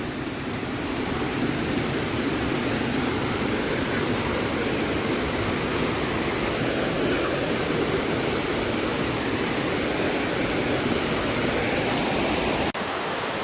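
Small waterfalls about two to three meters high tumble down a hillside near Kollengode, Palakkad, making a loud, steady, broadband rush that fills the scene close by and never lets up, with no talking.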